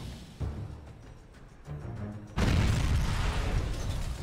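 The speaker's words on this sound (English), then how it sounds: "Now that's a home-seeking missile" A missile explodes in The Incredible Hulk Ultimate Destruction video game, a deep boom that bursts in loud and rumbles on, following a few lighter thuds and mechanical clanks.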